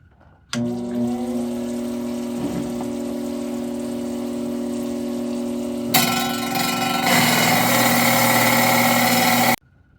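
A motorized rock saw cuts a serpentine stone slab with a thick blade, its motor humming steadily with a tonal whine, then a louder hiss of coolant spray and grinding joins in partway through before it cuts off abruptly.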